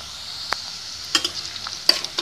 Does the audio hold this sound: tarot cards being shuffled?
no